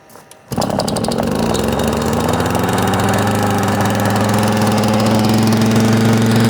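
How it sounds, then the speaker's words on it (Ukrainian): A chainsaw engine driving a homemade 220 V generator built from a car alternator, battery and inverter starts after a brief quiet moment, then runs loud and steady with a constant droning hum. "заведемо е, пилу і хай крутить генератор"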